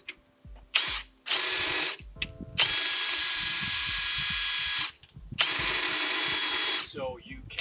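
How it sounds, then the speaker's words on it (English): A power drill fitted with a 13 mm (1/2 inch) socket spins the lift mechanism of a PIR Easy-Stow Lion unit, running in several loud, sustained bursts with brief pauses between them. "if you want to speed the process up, you're going to take your drill with a 13 millimeter or 1/2 inch"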